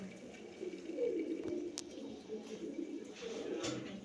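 Almond pigeons coo in low, soft rolling calls in a loft, faint and slightly distant, with a sharp brief click and quiet background noise.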